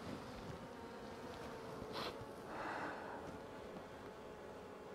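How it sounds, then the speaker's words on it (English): A dense, steady buzzing of many honey bees, swarming around close by, with a couple of louder passes rising above the drone. "So many bees"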